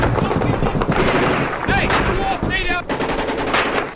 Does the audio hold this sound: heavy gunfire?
yes